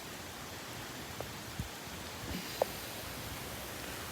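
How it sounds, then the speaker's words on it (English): Steady hiss of a heavy New York City downpour during a thunderstorm, constant and even, with a few faint scattered knocks; no voices. "it's raining really hard right now"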